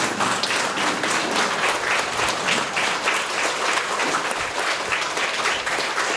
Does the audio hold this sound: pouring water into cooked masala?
no